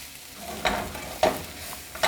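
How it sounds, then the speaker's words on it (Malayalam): Crushed chilli sautéing in a pan for a Kerala prawn fry, a soft continuous sizzle punctuated by three sharp stirring scrapes spaced evenly, close and moderately quiet. "ഇത് നല്ലോണം ഒന്ന് വഴന്ന് വരെ ഒന്ന് വഴറ്റി കൊടുക്കുക."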